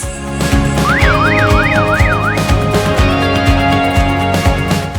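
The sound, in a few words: alarm siren sounding loudly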